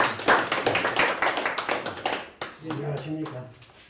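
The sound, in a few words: audience applause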